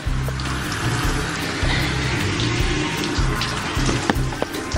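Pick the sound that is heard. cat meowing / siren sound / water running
water running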